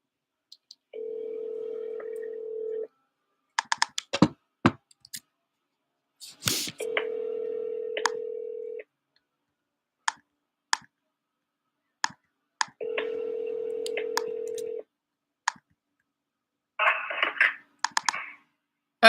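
Phone call placed on a landline: a short burst of keypad dialing is followed by three long, steady ringback tones separated by pauses, with scattered clicks and a final garbled line noise, all fairly quiet and with no talking.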